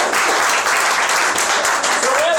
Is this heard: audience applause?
yes